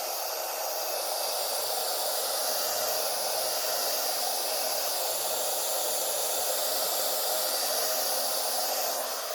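A heat tool blows a steady, even stream of loud hot air as it warms a wide patch of gilding powder on a surface, a constant whooshing hiss with no breaks from start to finish.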